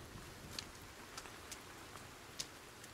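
Rain falls in the video game Sons of the Forest, a soft steady patter with a few sharper drops ticking on a surface, faint and without talk.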